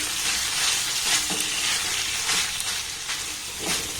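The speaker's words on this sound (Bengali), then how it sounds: "গ্যাসের ফ্লেমটাকে লো রেখে এবার ছানাটাকে একটু ভালোভাবে নাড়াচাড়া করে ভেজে নেব।" Chhena is stirred and fried in a pan over a low gas flame, with a steady close sizzle and soft scraping strokes of a ladle recurring throughout.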